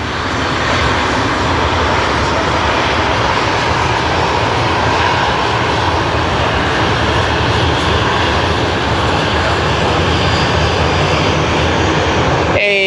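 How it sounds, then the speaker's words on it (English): A De Havilland Dash 8 turboprop airplane taxis past at Sydney Airport, a steady loud broadband engine roar that holds constant throughout, close to the listener with no break in the drone. "And the first dash 8 of the stream taxiing right in front of us."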